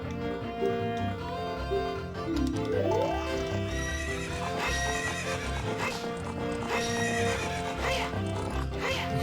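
In Zelda: Ocarina of Time, a horse neighs with a rising whinny amid clip-clopping hooves, set against a continuous game music track that stays loud and steady throughout.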